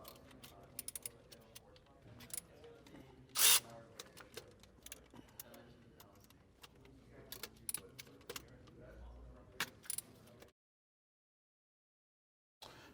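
Bolts on the oil cooler of a Porsche 996 are loosened, giving irregular metallic clicks and ratcheting sounds up close, with one sharp loud clank partway through and a short silence at the end.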